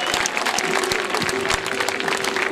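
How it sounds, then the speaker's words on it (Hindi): Loud, dense applause from the audience at a staged Urdu verse drama, many hands clapping close together with a faint steady hum underneath throughout. "बहुत तालियों के साथ उनका इस्तकबाल किया जाए"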